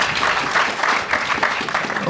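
Applause from a debate audience fills the whole stretch as dense, steady clapping at moderate loudness, with no break in the noise.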